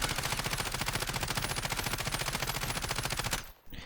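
Ram assault rifle firing a long sustained full-auto burst in Call of Duty Warzone, rapid steady shots close and loud for over three seconds before cutting off.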